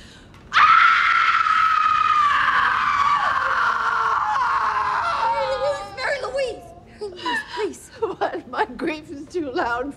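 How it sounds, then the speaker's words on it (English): A woman lets out a long, loud, sustained scream that trails off into broken, sobbing wails and gasps, a dramatic outburst in a TV drama scene. "I did scream."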